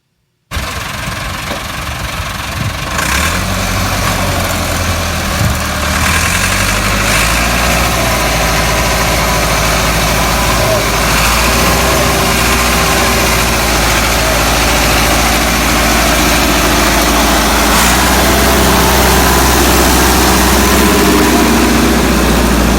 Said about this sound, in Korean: 트랙터에 의해서 차 견인되는 거 동영상을 제가 찍었는데